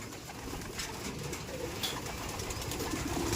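Pigeons coo softly and continuously in the hen section of a pigeon loft, a close chorus of overlapping calls with faint shuffling.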